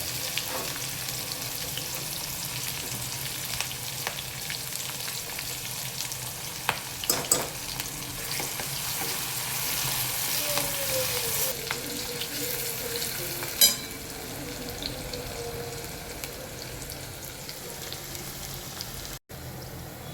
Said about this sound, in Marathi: तेलात आपल्या मिरची आणि कांदा छान फ्राय झाला आहे।